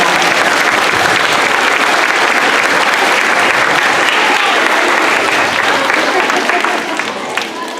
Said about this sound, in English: can you please give a warm round of applause to Mrs. Walters?